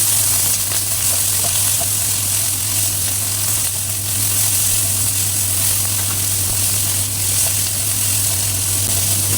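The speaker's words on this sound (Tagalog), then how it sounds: "i-add na natin yung chicken" Chicken pieces fry in a little hot oil with garlic for Filipino chicken humba, making a loud, steady, close sizzle that holds evenly throughout with no talking.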